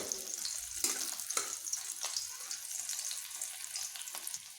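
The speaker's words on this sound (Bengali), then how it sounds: "ফোড়নগুলো আমার একটু ভাজা হতেই" Bay leaf, green chilli and panch phoron spices crackling in hot oil, a bright sizzle with several quick spattering pops, close and moderately quiet, no speech.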